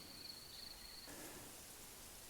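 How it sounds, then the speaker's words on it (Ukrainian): Light rain falls steadily outdoors, a soft even hiss near a garden bed, with a thin high insect-like tone fading out early; faint and continuous, no voices. "А ось і знову пішов дощик."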